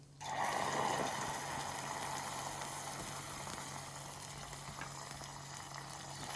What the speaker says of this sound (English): We're going to start with our butter, and this is going to spit like crazy